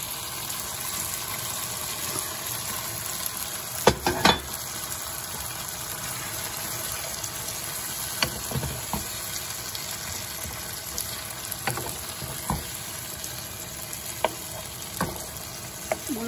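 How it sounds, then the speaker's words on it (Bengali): Coarse radish paste sizzles in hot oil in a pan, a soft continuous fry broken by occasional sharp scrapes and clicks as it is stirred. "তেল বেরোতে শুরু করেছে, এবার আমি মুলোটা দিয়ে দিই।"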